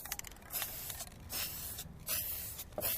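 Spray paint being applied to a garden container in bursts, hissing broadband sprays of varying length, close and fairly loud with brief pauses between passes.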